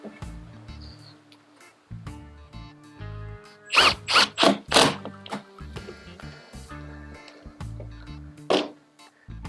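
A power driver sinks screws deep below the surface of a workbench top. Motor whirs come in short, uneven bursts, with a cluster of louder, rattling ratchet-like clicks in the middle and another near the end.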